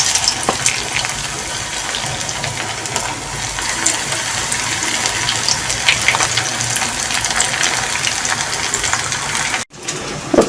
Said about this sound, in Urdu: اسی طرح اور فرائی کر لوں گی۔